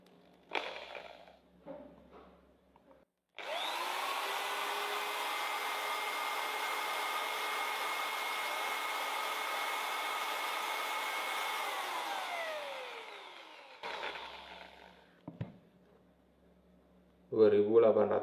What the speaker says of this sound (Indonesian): sekarang kita ukur untuk RPM-nya BT817